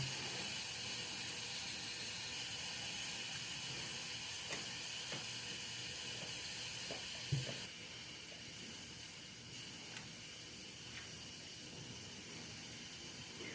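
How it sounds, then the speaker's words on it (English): An Instant Pot pressure cooker releasing steam while making spaghetti, a steady faint hiss running throughout with a few small clicks and a slight drop in level partway through, no talk. "That takes about 3 minutes to go down, the steam to go down."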